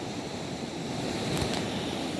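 Ocean surf breaks on a beach in a steady, loud roar that fills the whole stretch, with a faint brief hiss near the end and no voices.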